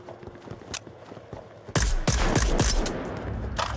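Gunfire rings out in Onward VR on Oculus Quest 2: a few sharp distant shots, then a loud close burst of rapid automatic fire with echoing tails, ending in another shot.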